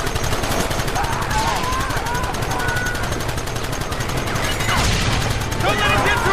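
Rapid gunfire rattles loud and close in the Western video game Red Dead Redemption, continuous bursts of shots layered over shouting voices and a busy combat mix.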